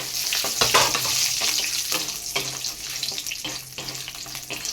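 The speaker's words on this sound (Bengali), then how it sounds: "ঘিটা গরম হয়ে গেছে তো আমি এলাচ দারচিনি লবঙ্গ তেজপাতা দিয়ে দিলাম এরপরে দিয়ে দিলাম কাজুটা" Cashews fry with cardamom, cinnamon, cloves and bay leaf in hot ghee for basanti polao. The sizzle is loud, close and crackling, broken by repeated stirring scrapes, and no one speaks.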